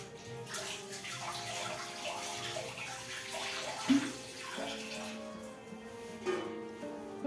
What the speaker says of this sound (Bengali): পরিষ্কার জলে ধুয়ে নিয়েছি।